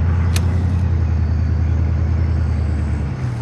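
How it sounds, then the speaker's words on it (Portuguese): In a Call of Duty Modern Warfare 2019 campaign scene, a vehicle moves with a steady low engine rumble and road drone, heavy and constant throughout, with a brief faint click near the start. "Veículo em movimento."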